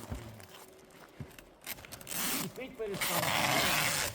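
Adhesive tape is ripped off the roll in a long, loud, rasping pull near a car, preceded by shorter crackling tugs, with people talking in the background.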